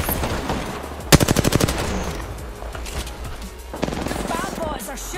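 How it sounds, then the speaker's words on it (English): Video game gunfire in a fast burst of evenly spaced automatic shots aimed at the player, with scattered further shots and effects following, heard alongside a voice talking. "Bad boys are shooting at me."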